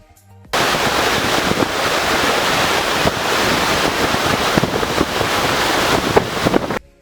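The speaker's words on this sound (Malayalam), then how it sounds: "അവിടെ നിന്ന് പുറത്തേക്ക് ഒഴുകുന്ന വെള്ളം വളരെ ശക്തിയായി വളരെ വലിയ ശബ്ദത്തോടു കൂടി നുരഞ്ഞ് പതഞ്ഞിങ്ങനെ" Loud, steady roar of water gushing and foaming out of a dam turbine outlet at Thenmala, a broad continuous rush that starts abruptly and holds full strength for several seconds with no talk.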